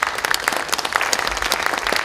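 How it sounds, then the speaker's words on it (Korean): Audience of lawmakers applauding at a New Politics Alliance for Democracy caucus meeting: dense, steady clapping filling the room, close and loud from start to finish. "박수 한번 보내주시죠."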